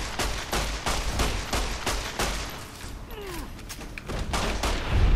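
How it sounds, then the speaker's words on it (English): 9mm pistol gunfire in the Fallout New Vegas video game, a run of sharp, fairly faint shots in an irregular rhythm with some mechanical clatter between them. "I'm gonna use the 9mm here just to keep backing up and shooting."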